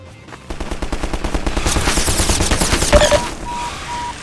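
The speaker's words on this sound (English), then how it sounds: "as soon as you go outside and the gun spots you, it then starts shooting again." An automated gun in the video game Half-Life 2 fires a rapid, loud machine-gun burst of closely spaced shots lasting several seconds, then stops, leaving a faint electronic beep and no talk.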